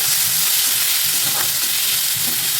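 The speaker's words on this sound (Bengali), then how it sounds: "আর ওই একই তেলের মধ্যে দিয়ে দিচ্ছি 3টে পেঁয়াজ এইভাবে পাতলা পাতলা করে কেটে নিয়েছি" Three thinly sliced onions frying in hot oil give a loud, steady, dense sizzle that runs unbroken throughout, with a few faint scrapes of stirring underneath.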